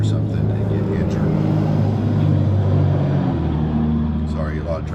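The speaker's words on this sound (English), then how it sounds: "Sorry, a lot of traffic." Road traffic rumbles past near a Pacific Crest Trail hiking path as a continuous loud engine drone with a vehicle changing pitch, while a person speaks over it.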